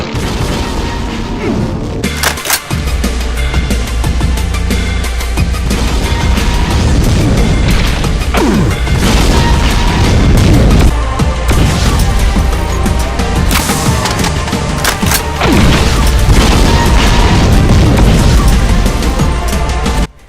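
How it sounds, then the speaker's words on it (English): Demon Tech BFG shots in a Doom mod fire and explode continuously, a loud, dense wall of heavy booms, crashes and bursts that rarely lets up. "Firing Demon Tech BFG shots."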